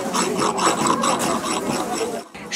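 Soft soapstone being worked with a hand rasp at a children's flea market craft stall, a continuous close scraping and rubbing that runs unbroken before a brief pause near the end.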